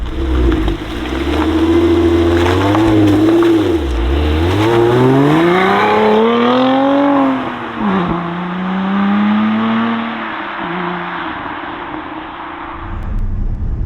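A Lotus Emira's supercharged 3.5-litre Toyota V6 revs loudly and closely, the engine pitch sweeping up and down through several throttle blips and pulls with a sharp, rising howl and no voices.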